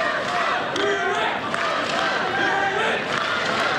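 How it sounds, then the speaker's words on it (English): Australian fans in the crowd at a 2003 US Open night match in New York chant and cheer loudly and continuously, a dense wall of massed voices with rhythmic shouts rising and falling. "Here's some Aussie supporters in the crowd"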